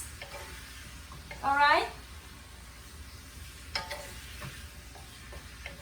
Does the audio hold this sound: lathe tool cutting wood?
no